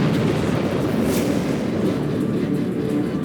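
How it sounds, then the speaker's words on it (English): A loud, sustained roaring rumble of an aircraft exploding in Ace Combat 7: Skies Unknown, deep and continuous like a heavy burning blast, with no voices. "Did you see that explosion? Looks like that's one of them down."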